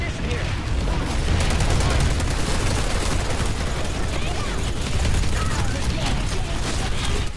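Rapid, sustained automatic gunfire from a player shooting in a crowded PlanetSide 2 fight as the Vanu Sovereignty, dense and loud throughout with overlapping bursts and no gaps.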